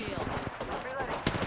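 Brief burst of rapid gunfire in the video game Apex Legends, sharp repeated shots close up, mixed with a voice talking over the game sounds.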